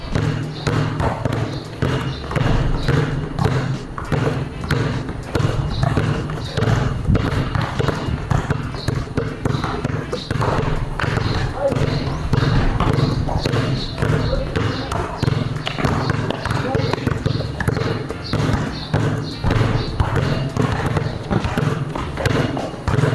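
Two basketballs dribbled at once on an indoor covered court, a steady rapid stream of bouncing thuds continuing throughout, with people talking and calling out over the rhythm.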